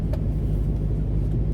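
A car's engine rumbles low and steady at close range as the vehicle pulls up, with a continuous road-noise drone and no talking.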